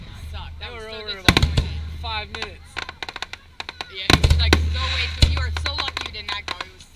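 Fireworks at the Palatka fireworks show, several sharp booms and crackling bursts spread over the clip, fairly distant, with people chatting nearby throughout.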